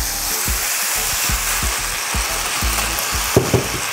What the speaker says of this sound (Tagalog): Itutuloy ko lang ang pag-isa hanggang sa mag-brown na yung outer part ng beef.